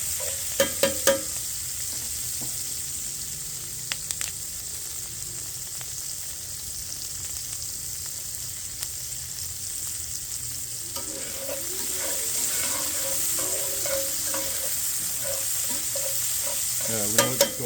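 Steady sizzling and crackling of chopped vegetables frying in a pan, with occasional stirring clatter, continuous throughout at moderate volume with no talking.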